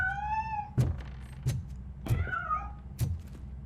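A cat in RoboCop: Rogue City meows several times, first one long rising cry and then shorter meows spaced about half a second apart, fairly close and clear with no talk.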